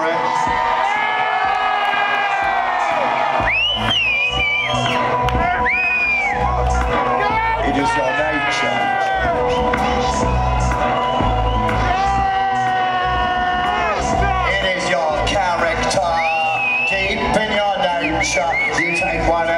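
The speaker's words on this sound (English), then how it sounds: "By all means, Manchester, do your best at screaming and shouting." A concert crowd at a show at Manchester Academy screams, whoops and shouts loudly and continuously, with music and amplified sounds mixed into the dense roar.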